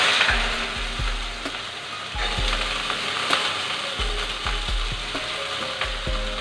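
Carrots frying in white oil and ghee with whole garam masala in a wok, a steady close sizzle overlaid by repeated clicking and scraping from stirring, with no talking.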